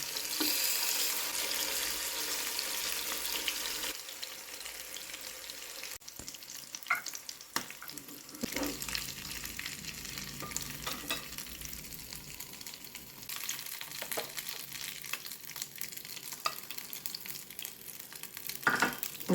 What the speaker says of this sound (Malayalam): ഇപ്പോൾ ഒരു സൈഡ് നന്നായിട്ട് ഫ്രൈ ആയി ഇനി നമുക്ക് തിരിച്ചെടുക്കാം തിരിച്ചിടാം